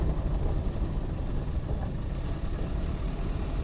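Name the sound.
1989 Land Rover Defender 110 200Tdi engine, downshifting gears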